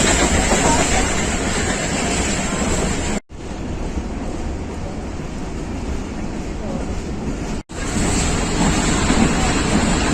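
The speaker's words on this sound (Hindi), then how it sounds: "और ट्रेन की रश की सूरत हाल एक दफ़ा फिर आपके सामने।" A Pakistan Railways train rushes past at speed with a loud, steady roar of wind and wheels, broken by two abrupt cuts.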